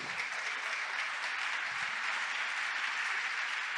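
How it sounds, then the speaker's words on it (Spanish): A church congregation claps steadily and enthusiastically for a few seconds, a dense even wash of applause from a large group indoors. "denle el aplauso al Señor, déselo fuerte si se lo va a dar"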